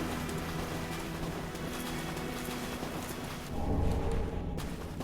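Horse galloping in the video game Dark Souls 3: a steady clip-clop of hooves runs under game ambience, then a louder rumbling thump near the end.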